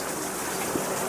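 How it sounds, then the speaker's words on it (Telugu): Water pours from a pipe out of overflowing tanks, a steady, even rushing hiss like a small waterfall, heard alone at moderate distance. "పైపులోంచి నీళ్ళు వస్తున్నాయి ట్యాంకులు నిండిపోయి"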